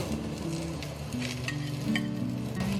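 Three vegetables stir-fried over low heat in a wok with a little oil, giving a steady close sizzle with faint stirring and occasional light clinks of a spatula.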